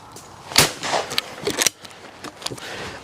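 28 gauge shotgun fired at clay targets outdoors, several sharp reports spread across a few seconds, with one loud shot standing out and quieter pops and echoes around it.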